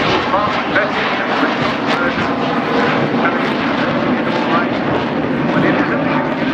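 A canard-equipped aircraft flies past at a seaside air show in Southport, its engine a loud, steady roar throughout, with a commentator talking over it.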